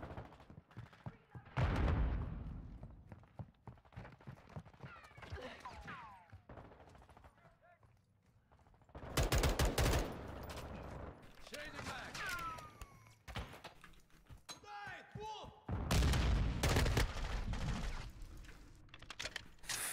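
Shotgun gunfire in Modern Warfare 2, with sharp, loud blasts in clusters amid game noise and other effects, and a person talking over parts of it.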